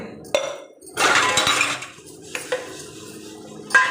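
Dishes being scrubbed and washed by hand, with steel utensils and a glass clanking and clinking together in short irregular bursts, close by, between quiet pauses.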